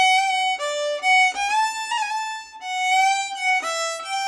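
A solo Irish fiddle carries the second section of a tune in a brisk sequence of bowed notes with slides and ornaments. The tone is rich and bright, close and clear with no talk over it.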